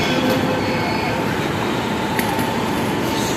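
A Delhi metro train runs along the track, a loud continuous rumble and rushing hum with a brief sharp click partway through, heard close up as if from inside or beside the carriage, with no talking.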